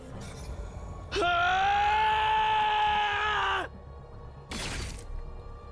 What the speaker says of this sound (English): It all came rushing out as a bestial scream.